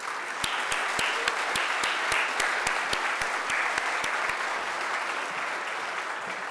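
Sustained applause from an awards ceremony audience honoring leadership awardees, a broad wash of clapping overlaid by a steady, evenly spaced run of sharp individual claps close by that stops partway through.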